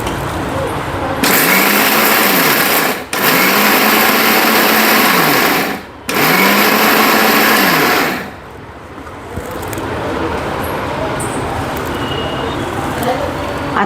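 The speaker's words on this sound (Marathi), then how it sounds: "याला शेंगदाणे, खोबरं आणि सांबार हे आपण मिक्सरला पहिले फिरून घेऊ" An electric mixer grinder whirs loudly as it grinds peanuts, coconut and sambar spices, running in three bursts with short pauses. After that, softer background noise follows.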